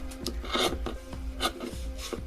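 Scissors rasping and snipping through fabric for doll socks, the blades dull; a series of short, close crunchy cuts in an irregular rhythm, with no talking.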